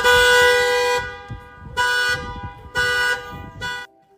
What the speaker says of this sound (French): à chaque fois qu'il tourne, la voiture klaxonne